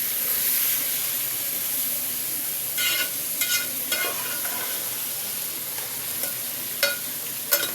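Minced meat keema fries with browned onions in a hot pan, giving a continuous close sizzle and hiss punctuated by sharp scraping stirs of a spoon, with no talk.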